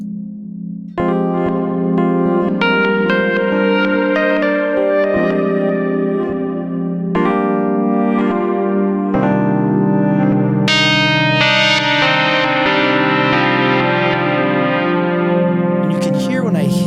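Sustained, shimmering instrument notes washed in echoing delay and long reverb tails, loud and continuous with layered chords swelling and smearing together.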